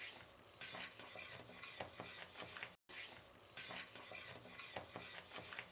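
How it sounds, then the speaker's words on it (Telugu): A thick Mysore pak mixture is stirred in a heavy-bottomed pan, making a faint, continuous scraping and clicking. The sound breaks off briefly in the middle. "కలపడం అంటూ ఎట్టి పరిస్థితుల్లోనే ఆపద్దండి"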